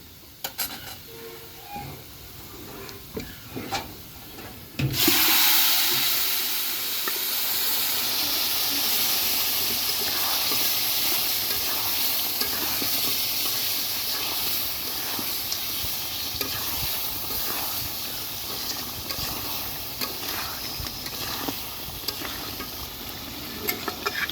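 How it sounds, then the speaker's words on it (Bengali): Duck meat tipped into a hot wok of fried onions erupts in a sudden loud sizzle that holds steady as a broad, hissing fry, with faint stirring scrapes over it. "এখন আমি মাংসটা ঢালে দিব"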